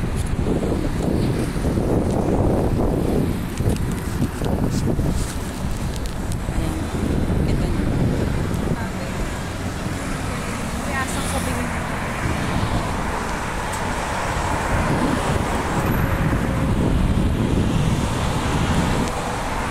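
Wind blows hard outdoors in cool weather, a continuous loud rumble buffeting the microphone, with faint traffic noise underneath.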